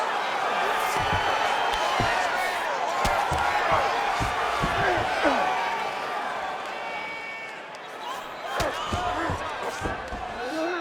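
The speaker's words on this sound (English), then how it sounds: "the crowd pops in appreciation as the fighters work their way back to the feet" Arena crowd in the UFC 5 video game roaring and cheering during a Dricus Du Plessis versus Khamzat Chimaev fight, a dense sustained wall of noise with scattered impacts and shouts throughout.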